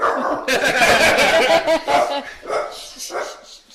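A dog barks in a series of loud, close yelps and woofs. Chuckling laughter and voices overlap the barking.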